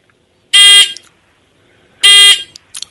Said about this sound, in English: it is this timer, okay, the buzzer timer